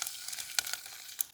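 Curry leaves and green chilies sizzle in a frying pan with hing, giving a steady bright hiss with a few sharper crackling pops.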